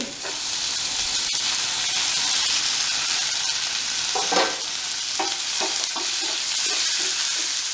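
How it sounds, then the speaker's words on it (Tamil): Onion and tomato frying in a pan for Bombay chutney, a dense hissing sizzle with intermittent spoon stirs and scrapes, close up and steady, no talking. "இப்போ ஒரு வெங்காயம் போடுறேன் தக்காளி"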